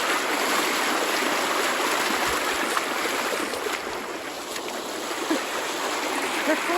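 A fierce torrent of floodwater rushes past in a loud, steady broadband roar that stays constant throughout, close by and with no talk over it.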